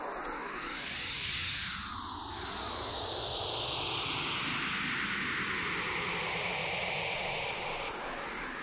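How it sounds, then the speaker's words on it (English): Filtered white noise hisses steadily while sweeping filter changes shift its tone, producing whooshing, airplane-like rises and falls at a low, even level. "This is what this sounds like over white noise,"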